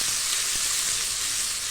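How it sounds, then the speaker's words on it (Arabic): Minced garlic frying in hot oil with peppers, a steady close sizzle with a constant bright hiss and a faint stirring knock, no talk. "نص معلقه ثوم مفروم هحطها هنا تصفر"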